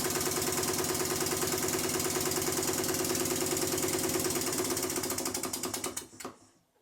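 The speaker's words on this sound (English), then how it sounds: "As I place the engine back on the bench, you can clearly hear the soundboard effect." A Stuart No. 4 model steam engine runs on a workbench, a steady fast mechanical chuffing and clattering rhythm up close that slows and dies away near the end as it stops.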